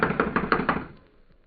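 Five evenly spaced knocks rap on a locked wooden cabin door in a radio drama, close and firm, then fade into a quiet room.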